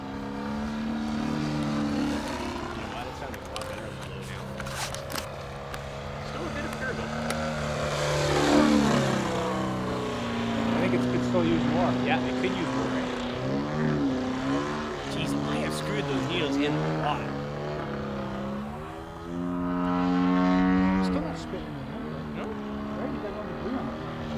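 Pilot Edge 540 RC airplane with a DA120 gas engine flying, a steady droning buzz that swells and fades as it passes near and far, with people talking over it throughout.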